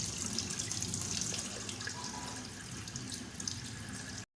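Water sloshing and splashing as beef for Bannu beef pulao is rinsed by hand in a bowl, a continuous close wet churning that runs steadily and then cuts off abruptly.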